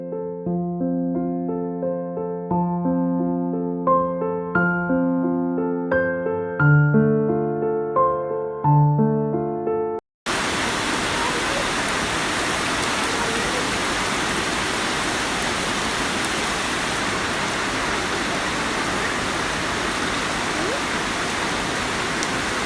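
After a stretch of music, heavy rain pours down outside a house in Kerala, a dense, steady roar that continues unbroken with no voices.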